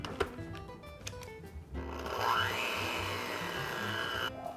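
An electric mixer whirs through egg-free, dairy-free peanut butter cookie dough made with a flax egg in a bowl, starting after a few knocks and running as a steady motor hum with a rising pitch.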